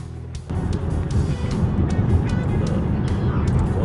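Inside a car moving through sticky town traffic, a steady broadband road and engine rumble swells after a quieter start, with faint voices.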